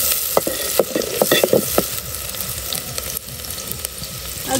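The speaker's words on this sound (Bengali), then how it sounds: "একটু তেল দিলাম আর এখন দিব কিছু কোঁচানো পেঁয়াজ" Chopped onions frying in a little oil in a pan, a bright crackling sizzle with a cluster of sharp spoon clicks and scrapes early on, then steadier frying, close and fairly loud with no speech.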